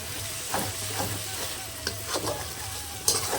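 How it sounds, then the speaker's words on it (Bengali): Mutton masala fries in oil and is stirred in a pan, a continuous close sizzle with occasional spoon scrapes and a sharp clink near the end. "চলো মাটনের মশলা কষানো কমপ্লিট আর তেল ঢেলেছে"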